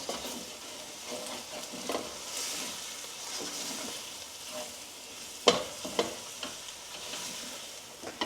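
Chili masala roasting in a pan for a lamb and turnip curry (shalgham gosht), giving a steady close sizzle with occasional sharper crackles and stirring scrapes, and no talk.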